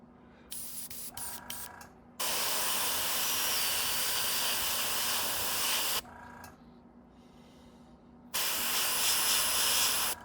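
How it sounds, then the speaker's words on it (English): An airbrush sprays paint onto an Aqua Tiger S-Crank fishing lure, giving a few quick short hisses followed by two long, steady, close bursts of airy spray separated by a brief pause. "I'm just going to put a little spray around this eye"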